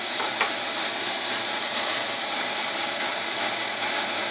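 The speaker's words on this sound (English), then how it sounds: "The stove puts out a beautiful flame." A Coleman Exponent 550B single-burner camp stove burns with a steady, loud, unbroken hiss, joined by a few faint clicks near the start.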